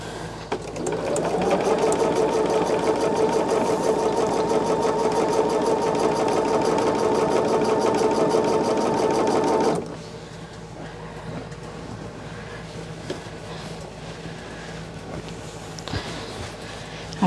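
A sewing machine stitches binding onto fabric, running fast and steady with a rhythmic mechanical whir for about nine seconds, then stops, leaving quiet handling noises.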